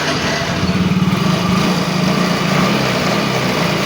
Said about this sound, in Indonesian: Kita coba lagi untuk menghidupkan si motor.